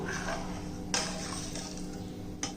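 A spoon stirs rice and lentil kanji in a cooking pot, giving soft scraping with light metallic clinks and two sharper knocks against the pot's side, moderately close and with no talking.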